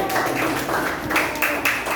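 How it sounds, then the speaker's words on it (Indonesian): A classroom of children claps for a classmate who has just answered a question about oranges and vitamin C. The dense, steady patter runs for about two seconds, with a few louder bursts toward the end. "kasih tepuk tangan tuh buat teman"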